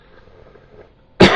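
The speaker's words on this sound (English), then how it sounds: "I'm getting over a cold, so I'm probably going to be coughing a lot." A single sharp cough from someone getting over a cold, loud and close, bursting out after a near-silent pause.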